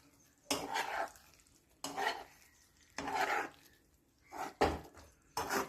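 Methi omelette curry stirred in a pan, giving five separate bursts of scraping and clinking at irregular intervals, close and moderately loud, with quiet gaps between them.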